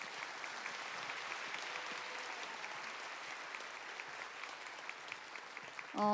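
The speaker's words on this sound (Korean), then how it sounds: "오윤야 집사님 나오실 때 큰 박수로 환영해 주시길 바랍니다" Sustained applause from a large church audience, steady and dense clapping throughout, with no talking over it.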